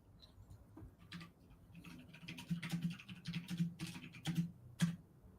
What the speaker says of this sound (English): I guess I will just type it here.